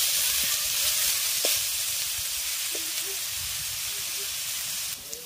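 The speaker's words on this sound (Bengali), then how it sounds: "ভালো করে একটু এটাকে ভাজা ভাজা করে নেব" Fish pieces frying in hot oil with salt for a Bengali home-style fish curry, a steady close sizzle and hiss running throughout with a few faint clicks and scrapes of stirring.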